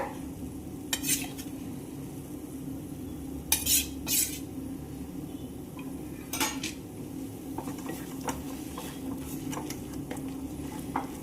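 A spoon clinks and scrapes in a bowl as spice powder is mixed into mango chutney, with repeated close taps and stirring scrapes over a low steady background.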